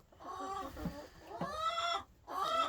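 Two Americana hens cluck and chatter in a backyard coop, with close, melodic calls rising and falling in short phrases and a brief pause before the last call.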